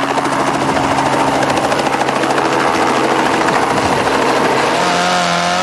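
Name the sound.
helicopter flying over rally stage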